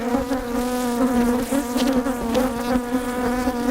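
A honey bee colony buzzes loud and close in a dense, continuous drone as the bees are drawn into a bee vacuum, the pitch wavering slightly throughout.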